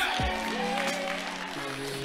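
Applause from a crowd for the Hickman squad at an exhibition match, a short burst of clapping mixed with cheering voices and a sustained tonal sound running underneath.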